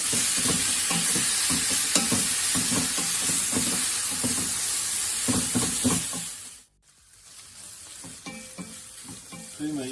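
Zucchini lasagna filling with spices sizzles steadily in a pan while being stirred, with repeated scraping strokes over a constant frying hiss, then the sound cuts out briefly and quieter stirring resumes.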